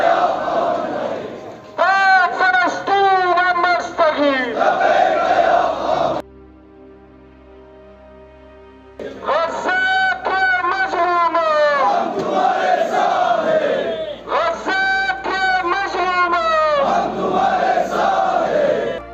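A crowd of thousands at a protest rally in Kargil, Ladakh, chants slogans in unison in support of Palestine and Gaza, following a loud leader's call in repeated rhythmic bursts, broken by a brief lull midway.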